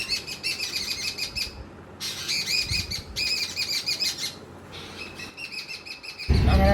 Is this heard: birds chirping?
yes